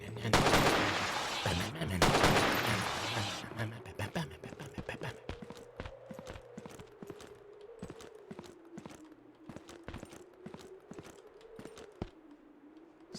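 Rapid gunfire from the survival shooter Zero Sievert, loud bursts of overlapping shots at the start, then steady sharp single reports and short volleys continuing throughout, with a person talking over the shooting.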